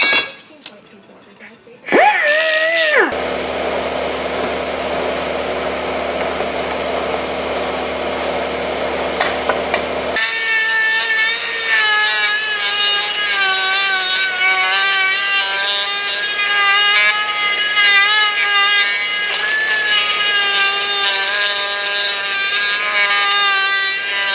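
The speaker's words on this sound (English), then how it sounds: "I gotta just sort of die grind a little divot right there so that can settle down inside" A die grinder cuts a small divot into a chainsaw muffler, a loud, continuous high whine with a shifting pitch that runs close and steady for more than twenty seconds after a short burst of lower grinding.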